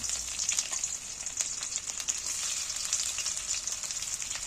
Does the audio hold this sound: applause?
no